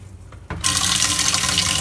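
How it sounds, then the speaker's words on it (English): Tap water gushes into a pot holding distilled white vinegar, starting with a soft trickle and then surging into a loud, steady rushing fill. "Fill it up with water."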